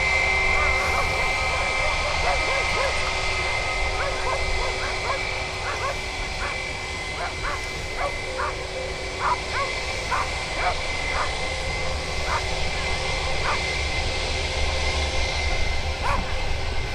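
Steady, loud broadband roar of an airplane engine at Birmingham Airport, sustained throughout with a faint whine on top and scattered chirping in the background.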